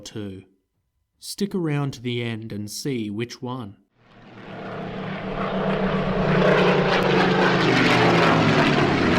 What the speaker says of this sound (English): That's the sound of what we believe to be the best fighter aircraft of World War